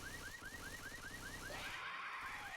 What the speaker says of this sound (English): And they're going to shoot the car alarm?